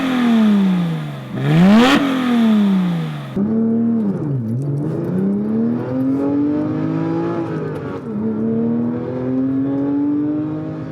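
A 2007 Porsche 997 GT3 engine revs repeatedly, climbing and falling in pitch through several sharp, loud blips and longer sustained pulls with a raspy, metallic howl, close by and with no talking.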